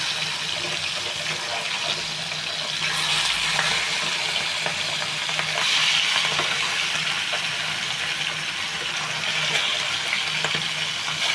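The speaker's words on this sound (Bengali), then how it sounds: "আমার মাছ ভাজা সেট হয়ে গেছে" Fish fries in a pan with an even, moderately loud sizzle and crackle that runs unbroken, with occasional faint clicks over the hiss.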